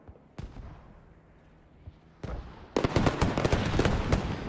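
Mortar explosions in a multiplayer shooter game: a couple of isolated booms, then a dense barrage of rapid crackling blasts building loud toward the end.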